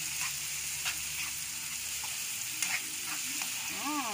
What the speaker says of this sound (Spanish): agregamos la salsita martajada. Y le movemos.